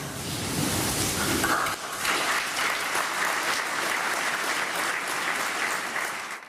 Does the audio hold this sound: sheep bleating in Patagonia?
no